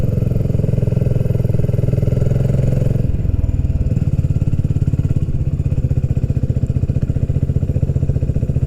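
Riding along in second gear, a BSA motorcycle engine throbs loud and near, its steady drone shifting to a lower, pulsing beat partway through, with wind noise underneath.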